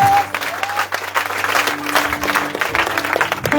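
A church congregation claps loudly and steadily for several seconds, a dense continuous burst of applause filling the room with a few faint voices mixed in.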